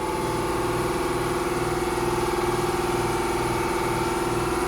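An air compressor running in a workshop, a loud steady motor drone with a regular pulsing thump from the pump, continuous and close with no talking.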